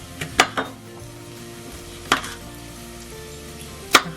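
Half a red chili being chopped with a knife on a board, a few sparse sharp knocks spaced out over quiet kitchen background, close and moderately loud.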